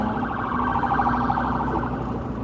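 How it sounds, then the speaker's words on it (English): A loud, steady ambulance siren wails continuously on the I-4 highway in Orlando at dusk, sounding fairly close and dominating the scene without any talking. "there's an ambulance coming."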